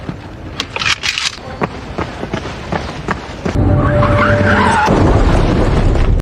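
A car skids and crashes into a parked car in a film scene: sharp scraping skid bursts and thuds, followed by a loud, sustained crunching rush of impact noise, close and forceful.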